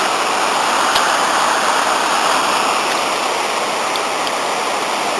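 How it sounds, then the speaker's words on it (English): The River Glaslyn's final rapids rush through Aberglaslyn gorge in a loud, constant roar of churning water that holds steady throughout, with no voices. "And there's the Glaslyn, the final rapids."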